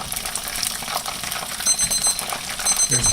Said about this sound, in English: There's the timer again